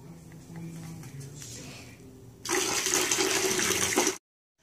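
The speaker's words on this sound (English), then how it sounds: "Filling up the dog's water." Tap water fills a dog's water bowl indoors: a quiet trickle swells into a loud, close rush of pouring water that runs for under two seconds, then cuts off abruptly into silence.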